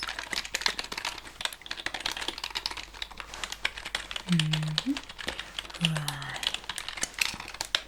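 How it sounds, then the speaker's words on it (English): Steady keyboard typing, close and crisp, runs throughout with rapid uneven key clicks, set in a sci-fi space-station medical checkup scene; a short spoken word and a few soft tonal blips sit over the clatter. "The typing the results"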